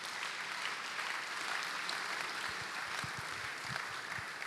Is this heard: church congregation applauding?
yes